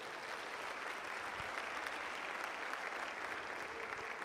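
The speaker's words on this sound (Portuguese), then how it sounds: "Então dá um aplauso aí ao Senhor Jesus" Congregation at a church gathering gives a round of applause, a fairly quiet, even wash of many hands clapping without pause.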